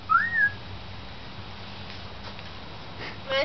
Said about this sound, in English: Just whistle for him.